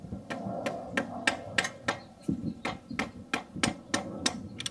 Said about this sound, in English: Go ahead and use the rubber mallet.